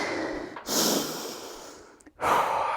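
Heavy, forceful breathing during a skipping rope HIIT workout, close and loud: rapid sharp exhalations and gasping inhales in bursts, with a short pause before another strong breath.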